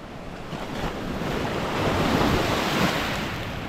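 Ocean waves washing onto a beach in Southeast Asia, a continuous broad surf roar with wind buffeting the microphone, swelling slightly in the middle, with no talking.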